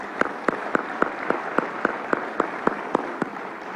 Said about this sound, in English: I think deserves a round of applause